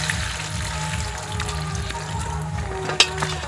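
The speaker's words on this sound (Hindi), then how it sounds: "तो धोने के बाद पानी को हम पसा देते हैं।" Water poured off washed, chopped ridge gourd pieces in a home kitchen, a steady trickle and splash running for a few seconds with one sharper knock near the end.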